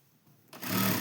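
A sewing machine stitches a fabric seat cushion (asan) for Swami Samarth, starting after a quiet moment and then running in a steady, close, loud whir.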